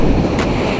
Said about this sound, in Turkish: Ama önümdeki dalgalar şu an çok büyük.